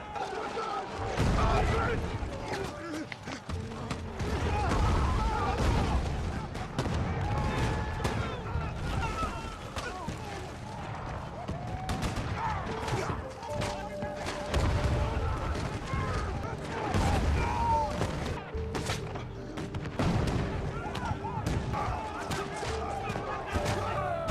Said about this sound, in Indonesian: mereka langsung disambut dengan tembakan sekaligus gempuran bom.